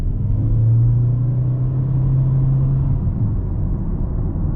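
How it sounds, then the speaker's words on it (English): A 2023 Toyota Corolla hybrid accelerates at full throttle, giving a steady droning engine hum and a low road rumble from inside the cabin, with little change in pitch before the drone eases off near the end. "So if we do a 0 to 60 full throttle,"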